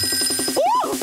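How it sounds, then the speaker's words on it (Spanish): A cartoon telephone rings with rapid, rhythmic trilling bursts, loud and close, broken by a quick sliding zany sound effect in the middle. "espero que logre oír los teléfonos cuando suenen"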